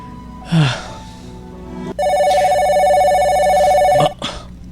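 A cellphone rings out loud and close with a steady electronic ringtone lasting a couple of seconds, preceded by a short voice and a brief noise, then cut off abruptly.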